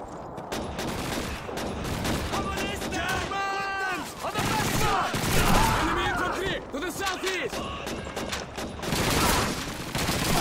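Rapid gunfire in the WWII shooter Call of Duty 2 as infantry fight at close range: dense, overlapping bursts and single shots crowd the whole stretch, with in-game voices shouting beneath the barrage.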